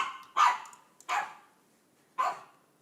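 A dog barks outside an office, three sharp separate barks close by with pauses between them in an otherwise quiet room.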